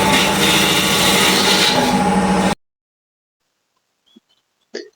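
A freshly sharpened turning tool cuts wood on a lathe, throwing coarse shavings, with a loud, steady scraping rasp for about two and a half seconds before it stops abruptly. Near silence follows, broken only by a couple of faint knocks.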